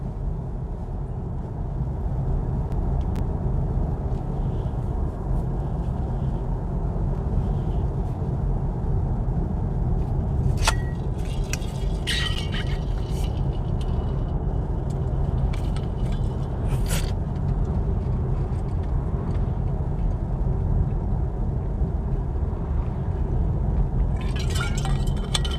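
A BMW i4 M50 electric car drives steadily, with a constant low road and tyre rumble inside the cabin and a few brief clinks and rattles, with no talking.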